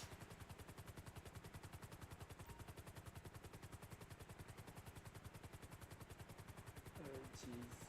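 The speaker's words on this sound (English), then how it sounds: "I'm still able to fly a chopper." Helicopter in GTA V flying toward the city, its rotor beating in a fast, even chop that holds steady throughout, fairly faint, with a brief extra rumble toward the end.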